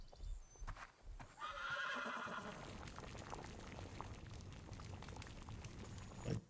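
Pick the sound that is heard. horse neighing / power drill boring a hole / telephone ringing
horse neighing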